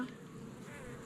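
Honey bees buzz around an opened Layens or long Langstroth hive during an inspection, a steady, dense swarm drone that holds evenly for the whole moment with no talking.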